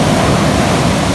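Strong sea waves break at a beach on a sunny day, a loud, unbroken roar of surf filling the short moment with no voices.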